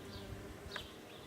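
A honeybee buzzes close by during a beehive inspection, its faint, steady drone wavering in pitch as it hovers near the open honey super.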